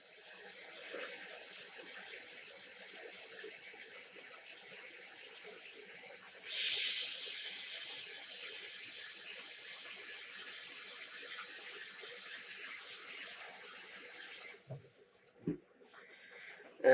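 Tap water runs steadily into a pot to prepare a dye bath for yarn. The rushing hiss grows louder partway through and then cuts off, followed by a couple of handling knocks.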